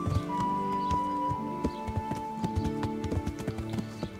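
Horse hooves in the medieval video game Kingdom Come: Deliverance, steady clip-clop footfalls at a walking pace over a low background hum with a faint sustained tone, moderately close, with no talking.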